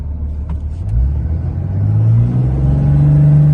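A Cummins 5.9 diesel pickup pulls away from a roll at about 25 mph with a tuner fitted, its low engine drone rising steadily in pitch and loudness as it accelerates, heard up close with no talking.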